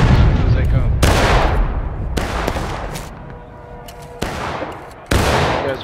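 Musket volleys and scattered rifle shots in the Civil War-era video game War of Rights, several sharp loud cracks with rolling echoes, spaced irregularly across the battle with quieter din between them.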